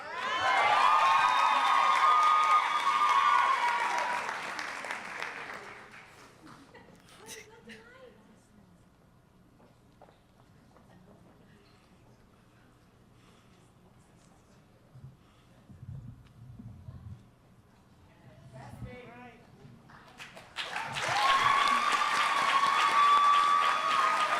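Applause with cheering and whoops for graduates at a kente donning ceremony, a loud burst at the start that fades, a quiet stretch with faint murmurs, then a second loud swell of clapping and cheers at the end.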